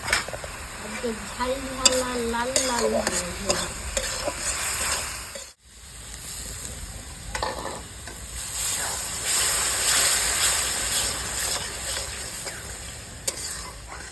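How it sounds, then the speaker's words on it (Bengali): Spiced paste of turmeric, cumin, coriander and chilli powders sautéing in oil for a fish curry, giving a continuous close sizzle with stirring scrapes, while a voice talks over the first few seconds. "বন্ধুরা ভালো করে কষা হয়ে গেছে গেবিটা আমার তেল ছেড়ে দিয়েছে"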